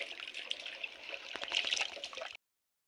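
Water runs and splashes as freshly pulled carrots are rinsed outdoors, a close, uneven trickling and gurgling with small splashes before it cuts off abruptly.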